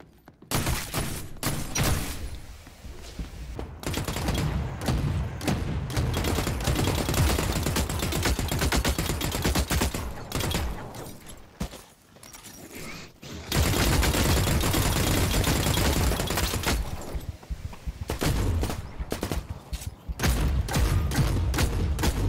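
Loud, sustained bursts of rapid gunfire from The Cycle: Frontier, dense automatic volleys with brief pauses between strings of shots, close and dominating.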